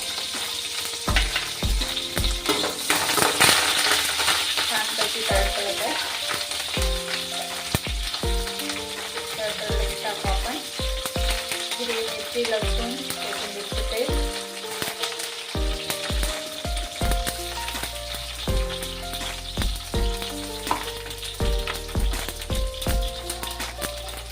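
Curry leaves, mustard seeds and cumin hit hot oil for a pigeon pea amti, giving a loud, dense sizzle with rapid crackles and pops that run steadily throughout, close up.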